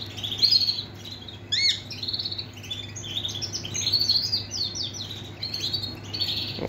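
A yellow Super Shirazi canary chirps in quick, bright bursts of tweets and short trills, close and clear over a steady low room hum.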